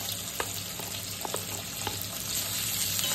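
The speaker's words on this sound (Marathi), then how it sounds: "हिरव्या मिरच्या थोड्याशा फ्राय झाल्या की आपण त्यात वाटाणा टाकू। वाटाणा थोडासा फिरवून घेऊ" Green chilies and peas frying in a pan, a dense continuous sizzle with a few sharp spoon scrapes and taps as the mixture is stirred around.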